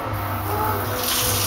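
A shower runs steadily in a house bathroom beside a jacuzzi bathtub, a continuous close hiss of spraying water with no break.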